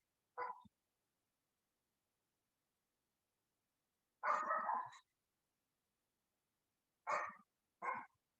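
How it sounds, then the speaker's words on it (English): A few faint, distant dog barks break an otherwise silent background: one short bark, a longer burst, then two quick barks. "I'm sorry about the dogs in the background."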